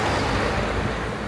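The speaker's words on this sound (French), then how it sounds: "j'ai gros vent de face depuis le début" Strong headwind buffets the microphone of a cyclist riding an ultra-distance road challenge, a dense continuous roar of wind noise with no speech.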